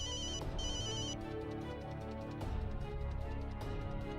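A mobile phone rings indoors during a domestic drama scene, its electronic ringtone repeating in a steady melodic pattern with rhythmic pulses. It plays at a moderate level, alone with no voices.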